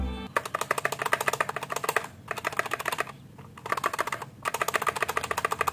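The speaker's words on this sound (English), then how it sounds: "what I also like about this keyboard is these stabs." Fast typing on an Aula F3001 budget tri-mode TKL mechanical keyboard gives close, crisp, rapid clacks in three bursts with short pauses between them.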